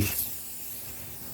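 Perfume scent sprayed from a bottle, a single short hissing burst that fades quickly, close by.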